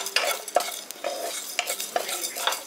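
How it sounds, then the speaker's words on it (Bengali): Whole spices, including black peppercorns, being dry-roasted in an oil-free pan: close, rhythmic scraping and rattling as a spatula stirs them, about half a dozen quick strokes with no talk. "এবার এই গোটা মশলাগুলোকে ভেজে নিচ্ছি শুকনো খোলায়"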